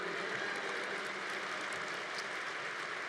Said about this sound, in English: See, your parents are clapping.